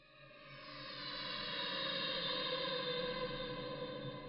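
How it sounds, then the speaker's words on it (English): A whale vocalization sample plays forward as a slow, sustained tonal moan that gradually swells in loudness and holds steady, used in a reimagined Minecraft music track. "Originally, the whale sample sounds a bit like this."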